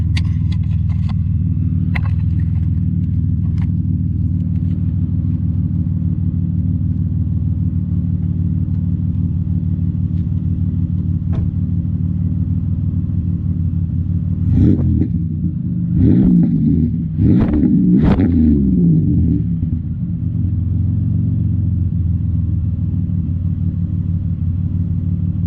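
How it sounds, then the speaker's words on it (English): A Chevrolet Impala with a repaired exhaust idles with a steady, low rumble, then gets several short throttle blips in a row partway through. Loud and close, with no talking. "Give it some revs real quick."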